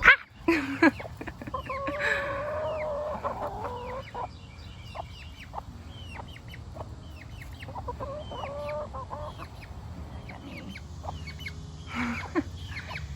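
A young backyard hen clucks and squawks in agitated bursts, with scattered sharp calls and chirpy notes over quiet surroundings, fairly close.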